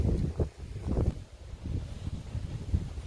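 Wind gusting through a garden with a lemon tree heavy with fruit, a low rumbling buffet on the microphone that swells and eases in uneven gusts, fairly quiet throughout.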